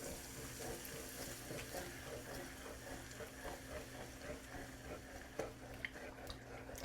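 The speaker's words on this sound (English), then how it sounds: "We're going to stir this in." Heavy cream is stirred into a sausage pasta in a pan, giving a faint, continuous wet sloshing and scraping that stays quiet and steady throughout, with no voices.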